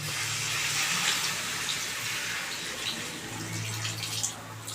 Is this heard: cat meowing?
no